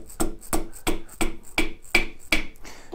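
Piston being tapped down into a cylinder bore of an LT1 small block Chevy engine, seven or eight light, evenly spaced knocks in a steady rhythm, close and clear with no talking.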